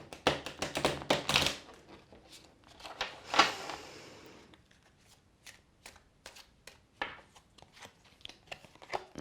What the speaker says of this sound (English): they probably riffle shuffle pretty well